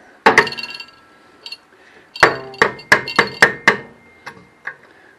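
Metal pry driver hammered against a rusted-on transaxle section of a Cushman golf cart, a sharp knock followed by a cluster of about six loud, ringing metallic strikes close by, then a few lighter taps.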